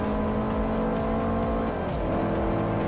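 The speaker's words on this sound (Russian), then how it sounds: "Был контакт небольшой. Кстати, звук прикольный. Того самого контакта." A light car-to-car contact during a race in Forza Motorsport 4: loud, steady engine drone with tire noise and a brief scraping knock partway through, alone without talk.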